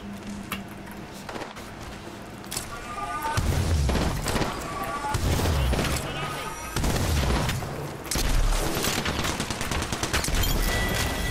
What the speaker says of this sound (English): That's a charge rifle.